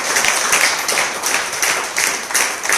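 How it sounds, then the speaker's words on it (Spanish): Church congregation applauding together, a steady dense wash of clapping with rhythmic peaks, fairly loud and close, with no talking over it. "Yo que usted le daba un aplauso a él"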